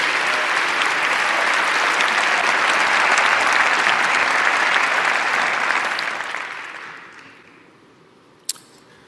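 An audience at New York City's State of the City address breaks into sustained, loud applause that holds steady for about six seconds, then tapers off to quiet, followed by a single sharp click near the end.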